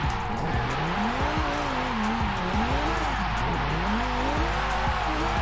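A Toyota Corolla drifts through donuts in the Forza Horizon 5 racing game, its engine wailing up and down in pitch beneath continuous tire squeal, with repeated skids and no talking.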